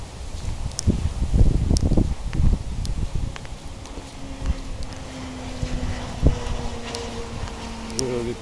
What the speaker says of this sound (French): Je vais peut-être pas poster cette vidéo parce qu'il y a trop de vent.